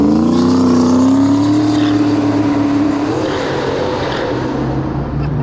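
A big turbocharged Ford Mustang pulls away hard from a red light, its loud, close engine rising steadily in pitch through the gear before settling into a broader roar that stays strong throughout.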